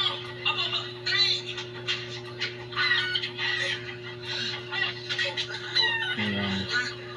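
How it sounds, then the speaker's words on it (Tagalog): Chickens cluck and squawk in bursts close by amid a steady electrical hum, with a short crow-like call near the end, in a rural gamefowl setting. "Ayun yung manok, dali."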